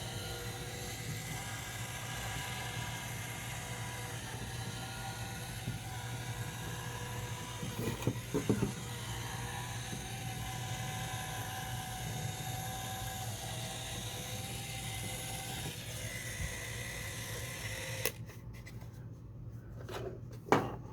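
A homemade motorized robot model of the Son of Magnor design runs steadily with a continuous low motor hum and a few faint clicks from its clicker part, the whir holding level before cutting out near the end.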